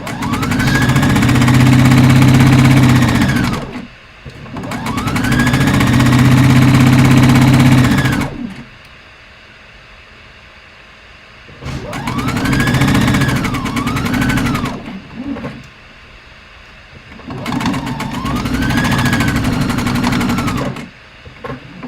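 A sewing machine stitches a playsuit, sewing up to a corner and over a strap. It runs in four loud, steady whirring bursts of a few seconds each, close by, separated by short quiet pauses.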